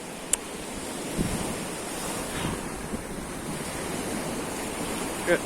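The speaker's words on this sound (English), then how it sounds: "And of course the sea washes it away." Sea waves wash onto a sandy stretch of Levante beach in the evening, a steady, fairly close surf rush with wind buffeting the microphone and no talking.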